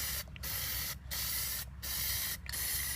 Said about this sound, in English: So I give it a real thick coat since I've already sprayed it before.